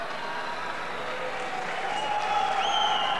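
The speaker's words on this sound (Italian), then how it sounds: "Ancora applausi" A crowd applauds between rounds at a boxing match, a moderate steady patter of clapping in a large hall with a high whistle-like tone rising near the end.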